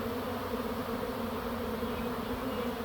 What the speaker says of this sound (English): This is actually quite a sizable swarm.